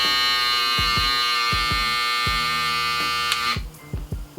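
A Babyliss Pro electric foil shaver buzzes steadily at close range with a high, dense drone, interrupted by a series of low thumps and handling knocks before it switches off.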